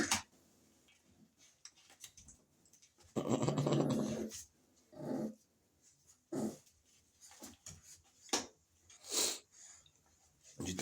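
An American pit bull terrier puppy growls in short, rough bursts during play, close by, with quiet pauses between the growls.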